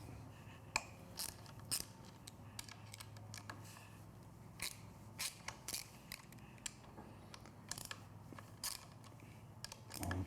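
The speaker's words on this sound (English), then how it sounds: "Using a 6mm Allen hex bit." A 6mm Allen hex bit loosening bolts on a Triumph Street Twin motorcycle, heard as sharp, irregular ratcheting clicks and creaks spread across a quiet background, close and clear, with no talking.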